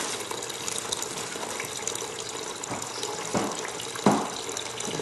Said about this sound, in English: The water is running down and eroding the sand away.